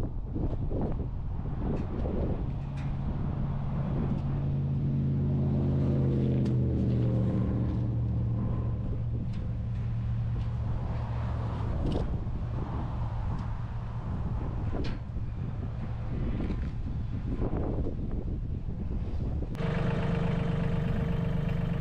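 A tractor engine idles with a steady low rumble on a farm before a hay run, wind buffeting the microphone and scattered knocks and clanks over it.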